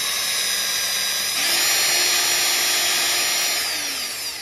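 A steady high-pitched power drill whine boring a hole in wood on a lathe-turned wooden mouse runs throughout, rising in intensity midway and then easing slightly toward the end, close and loud with no talking.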